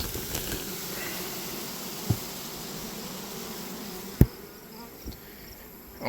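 Honey bees buzz at a hive in a dense, continuous drone close by, with a few sharp knocks and taps breaking through.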